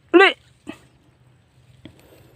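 Dogs in a chili garden give a short yelp or whimper, then a softer second one and a faint third, each brief and close against a quiet outdoor background.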